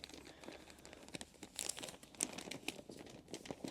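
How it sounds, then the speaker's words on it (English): Wrapping paper for a gift crinkles and rustles as it is folded down, with bursts of crisp crumpling and a few sharper crackles, close up and without speech. "and then I fold it down again."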